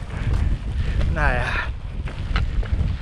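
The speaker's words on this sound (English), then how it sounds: "The wind comes unfortunately from the wrong direction." Wind gusts roar steadily across the microphone on an open Cairngorms hillside, a broad continuous buffeting close to the mic, with a short spoken word over it.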